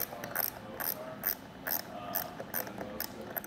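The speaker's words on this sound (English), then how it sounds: "run it down the rest of the way with a 10mm wrench that isn't included in the kit" A 10mm ratcheting wrench runs down a roof rack bolt on a Rhino-Rack Vortex mounted to a 2022 Jeep Grand Cherokee L, giving a steady series of close, crisp ratchet clicks in an even back-and-forth rhythm.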